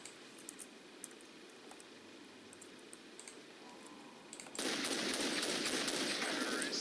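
Sustained rapid automatic gunfire from Counter-Strike 1.6 erupts midway and stays loud to the end, following a quieter stretch of scattered game clicks and ambient noise.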